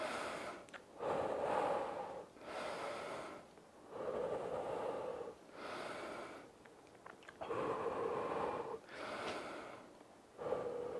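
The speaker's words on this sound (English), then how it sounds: "let's breathe." Heavy, rhythmic breathing after a home workout set, with deep audible inhales and exhales in a slow regular cycle of about six breaths, close and fairly quiet with no talk.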